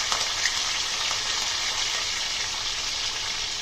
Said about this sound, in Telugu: ఇవన్నీ బాగా వేపుకొని లైట్ గోల్డెన్ కలర్ వచ్చేదాకా వేపుకోవాలండి